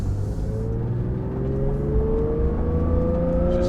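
A Porsche 992 GT3 Touring with a Dundon titanium center exhaust, sport headers and cats drones under acceleration, its engine note climbing smoothly in pitch as it pulls, heard from inside the car with a steady road rumble.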